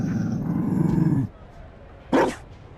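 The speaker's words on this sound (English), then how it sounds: "You found a dog?" A Mabari war dog in Dragon Age Inquisition gives a low growling rumble, then one sharp bark after a short pause, close and clear with no one speaking.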